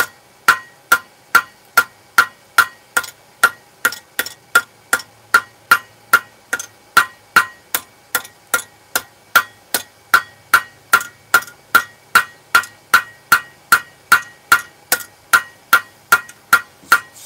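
Hammer forging a steel grill tool on an anvil, a long run of sharp, bright ringing metallic strikes at a steady, even rhythm, close and loud, with no talk.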